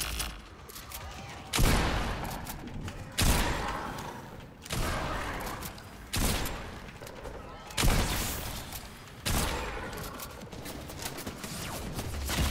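Fortnite weapons fire in a video game, six heavy bursts of gunfire spaced roughly every one and a half seconds, each a sharp loud onset that decays into a rumble.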